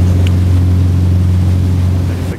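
A Maine Cat P-47 powered catamaran with Tier 2 diesel engines runs at higher speed, giving a loud, steady low engine drone with water rushing along the hull, easing off slightly at the very end.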